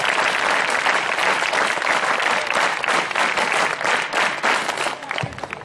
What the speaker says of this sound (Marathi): एकदा जोरदार टाळ्या तर झाल्याच पाहिजे